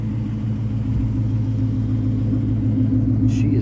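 A 2018 Ford Mustang GT with a 5-liter V8 idles with a steady, deep low rumble, loud and close throughout, with a brief faint sound near the end.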